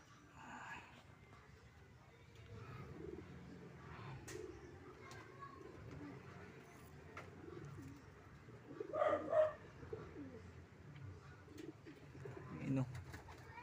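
Pigeons cooing softly outdoors, with faint wing flutters and a distant dog barking, under quiet conversational talk throughout.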